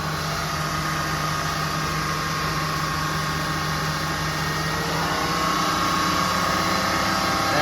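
An engine runs steadily with a constant drone, its pitch rising noticeably near the end as the revs climb.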